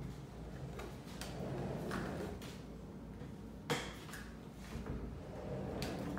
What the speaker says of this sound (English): Pocket door.